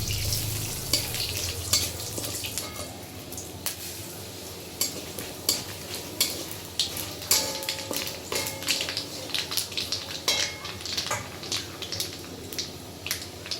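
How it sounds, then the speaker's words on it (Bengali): Nigella seeds, dried red chili and bay leaf fry in hot oil for a tempering, a steady close sizzle with sharp crackles and pops throughout, plus occasional light scrapes of a spoon in the pan. "এবার আমরা দিয়ে দেবো সামান্য পরিমাণে কালো জিরে ফোড়ন"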